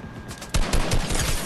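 Gunfire in Fortnite: a quick burst of several rapid shots rings out, loud and close, after a brief quieter lead-in.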